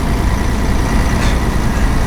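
Volvo F16 intercooler truck running on its original exhaust, its deep engine drone loud and constant from inside the cab, with a brief brighter hiss midway and no talk.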